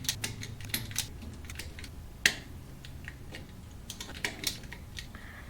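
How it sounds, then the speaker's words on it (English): Wire stripper working on trailer wiring, a scatter of small sharp clicks and snaps at close range with one louder snap midway, alone without talk. "So now we'll strip the wires back."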